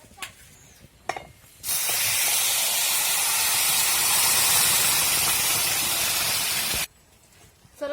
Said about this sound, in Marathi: आता आपण पुरण टाकून घेतलेलं आहे कढईमध्ये परतण्यासाठी